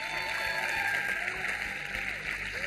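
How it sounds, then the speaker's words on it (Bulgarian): Studio audience applauding a guest on a television show, a steady wash of clapping at moderate distance with scattered cheers. "Аплодисменти за Яна Грудева!"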